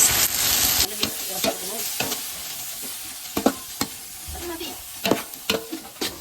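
Crushed ginger and garlic mixed into tomato in a hot pan, with a bright sizzle under repeated sharp spatula scrapes and knocks against the pan at close range.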